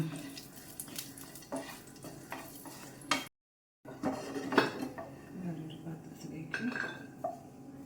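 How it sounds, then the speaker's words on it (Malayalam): Metal utensils clink and scrape against a pan while cashews and raisins sizzle gently in ghee underneath, with a brief silent gap midway. "ആ നെയ്യിൽ അണ്ടിപ്പരിപ്പും മുന്തിരി ഒന്ന് മൂപ്പിച്ചെടുക്കുക"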